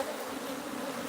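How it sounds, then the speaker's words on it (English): A swarm of honey bees, stirred up while brood comb is being exposed, buzzes loudly and continuously in a close, dense drone with no voices. "It's raining bees."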